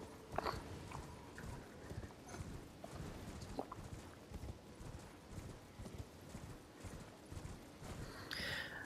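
Hooves of a galloping horse in the video game Elden Ring thud in a steady, rhythmic clip-clop throughout, with a brief whinny-like accent.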